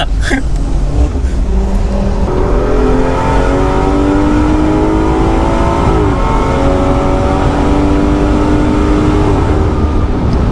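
Inside a 510 bhp BMW M240i lapping a track, a loud engine roar rises and falls through gear changes while a thin whine from the differential bushes climbs alongside it, steady and close throughout.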